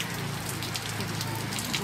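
Rain falling on Mall Road in Darjeeling, a steady dense patter across the whole moment with scattered drop hits, fairly close and even in level, with faint voices in the background.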